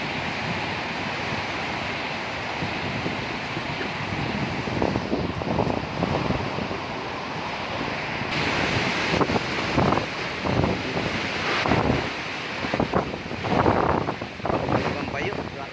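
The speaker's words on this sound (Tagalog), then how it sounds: "grabe lakas ng hangin" Strong typhoon wind from Typhoon Odette buffets the microphone in a continuous loud roar with gusty surges, stronger in the second half, while banana plants bend nearby.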